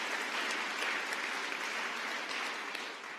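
Applause from the crowd at a museum exhibit opening, a soft, even wash of clapping that stays steady and slightly distant before thinning near the end.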